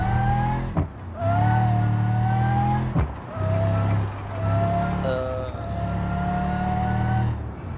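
Racing video game car lapping the West Coast track, its engine droning loud and steady with rising and falling pitch through gear changes, a couple of sharp dips between shifts, and a high whine riding over the motor throughout.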